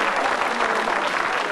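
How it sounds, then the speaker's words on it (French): An audience at a parrot puzzle and memory show applauds steadily, a dense loud burst of clapping from a crowd with no break. "Donnez un applaudissement pour Ruby"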